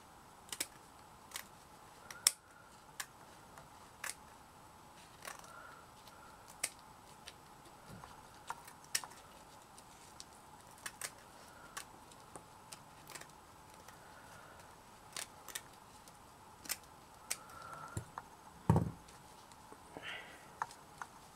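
Scissors snip through a ribbon applique being trimmed by hand, giving a steady run of short, sharp clicks spaced about a second apart, quiet and close, with no speech.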